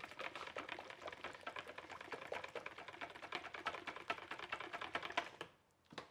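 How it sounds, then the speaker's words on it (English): Whisk beating hot cream into egg custard in a bowl for crème brûlée, a fast continuous rhythmic ticking and sloshing close up, stopping abruptly just before the end. "A little bit of cream into the custard, into the egg, sorry. Give it a whisk."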